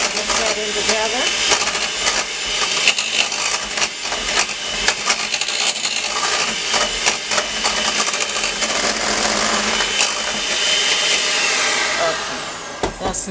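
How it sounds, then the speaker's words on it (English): A blender whirs steadily while mixing ingredients for a smothered pork chop dinner, a loud continuous motor drone with fluctuating intensity and clicky bursts, with a voice occasionally talking over it. "And so we're going to blend, mix that in together."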